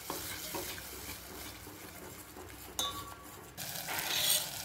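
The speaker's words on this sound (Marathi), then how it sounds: "केलेलं वाटण घालायचं आहे" Ground masala paste tipped into a pan of sprouted horse gram usal, a steady frying sizzle with scraping stirring and a couple of sharp clinks of the spoon against the pot, close and continuous with no talk.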